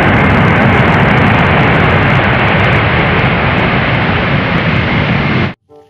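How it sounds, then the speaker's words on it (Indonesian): A toy airplane gives off a loud, steady engine roar for about five seconds, then cuts off abruptly. "Wow, lihat, ada pesawat terbang."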